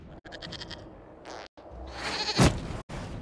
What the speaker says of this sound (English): we discover this man attacking the building with a